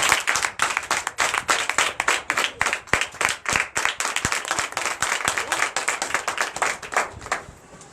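A church congregation at a Sunday worship service in Comè, Benin, claps together in a loud, even rhythmic beat, sharp hand strikes repeating steadily for several seconds before easing off at the end.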